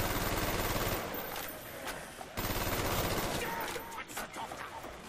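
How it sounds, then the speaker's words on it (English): Sustained, dense fire from an AUG rifle in Call of Duty Zombies on the Kino der Toten map, with loud rapid shots running almost continuously and a brief break midway. "I think I'll blow through this AUG ammo quickly here"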